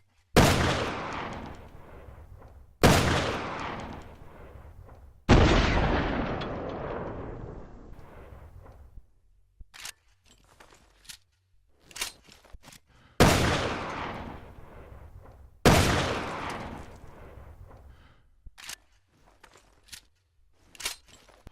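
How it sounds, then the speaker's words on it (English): Pale Rider magnum in the Resident Evil Revelations 2 video game fires five heavy, echoing shots at slow, widely spaced intervals, each tail dying away, with sharp reload clicks between the volleys. "let's showcase the Pale Rider and conclude the Magnums"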